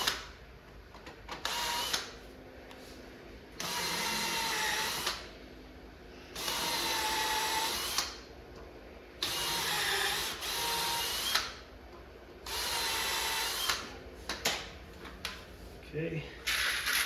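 Power drill driving screws into a wooden cocktail arcade table, several bursts of whirring lasting a second or two each, separated by short pauses, fairly close with a steady rhythm.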